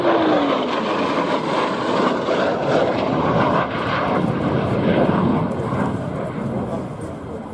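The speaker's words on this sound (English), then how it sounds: "About to break into the circuit, the Typhoon FGR-4." An RAF Typhoon FGR4 jet at an air show, roaring loud and continuous as it breaks into the circuit, with a commentator's voice over the engine noise.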